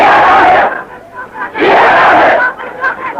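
Loud crowd at a religious rally chanting slogans in rising and falling surges, with two big swells of massed voices and shouting close by.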